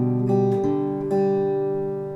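A short fingerstyle guitar phrase from the C section of a song, measure 3, with a thumb-picked bass pattern on the low strings under a few plucked treble notes that ring out and fade, close and alone.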